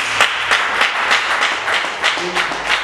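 A church congregation claps together in a steady rhythm, roughly three claps per second, with faint voices underneath.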